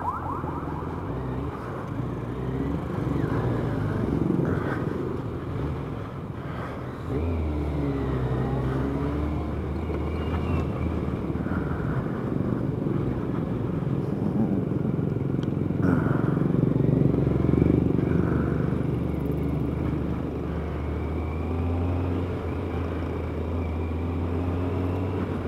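A Kawasaki ZZR1100 motorcycle rides through commuter traffic, its engine holding a steady, loud drone close by that rises and falls slightly with throttle, wind rushing over it throughout.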